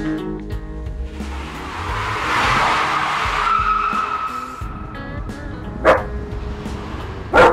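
A dog lets out a couple of sharp, loud barks toward the end on a homestead, over a steady rumbling, squealing background noise.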